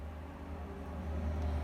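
Nearby highway traffic forms a faint, continuous low rumble and hum, steady and distant, with no voices over it.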